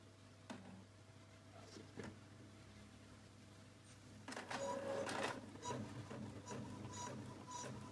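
A printer whirs quietly with a few clicks, then feeds and prints a page with a louder mechanical churning rush that continues to the end.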